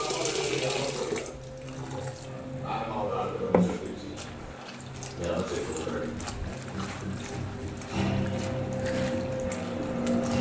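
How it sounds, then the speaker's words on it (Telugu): Cabbage is washed with salt under a running kitchen tap, water splashing and streaming steadily into a sink while someone talks over it. "క్యాబేజీ ఫ్రై చేస్తున్నా, కొంచెం ఉప్పు వేసి కడుక్కుంటాను నేను."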